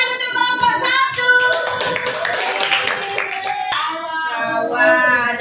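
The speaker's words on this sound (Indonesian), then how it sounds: "tepuk tangan untuk kelompok 1" A school class claps for a group of students in a lesson on food chains, a short burst of handclaps at moderate volume mixed with children's voices and ringing tones.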